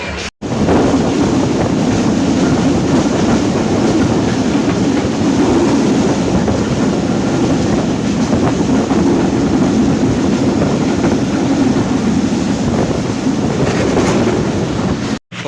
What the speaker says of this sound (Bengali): আর ট্রেনটি প্রায় বিলম্ব করতে করতে ট্রেনটি প্রায় এখন 45-50 মিনিটের মতো বিলম্ব নিয়ে নাটোর প্রবেশ করলো।